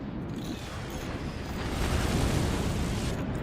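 Howitzer shells exploding in a multiplayer war video game, a continuous rumbling barrage of heavy booms that swells in the middle, loud and dense, with no talking.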